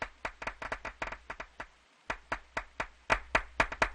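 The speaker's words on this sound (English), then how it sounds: "Yeah, I hear the clapping." Hands clap in a quick, slightly uneven rhythm, about two dozen sharp claps close by, with one short pause midway and no talking.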